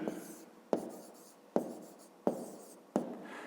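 Handwriting during a fifth-grade math lesson, with short scratchy pen strokes in a quiet room, broken by four sharp taps spaced about once a second, close and fairly soft.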